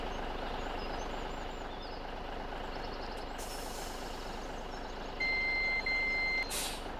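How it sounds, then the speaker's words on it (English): Reversing beeps from a truck in the video game Farming Simulator 17, a few steady electronic tones over a constant engine idle, with an air-brake hiss before and a brief burst of hiss at the end. "Truck will go backwards a little bit more efficient that way."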